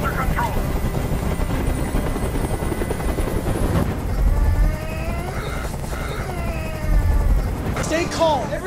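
A helicopter's rotor throbs steadily throughout in the video game Detroit: Become Human, loud and close, with a heavy low drone and occasional synthetic game effects layered on top.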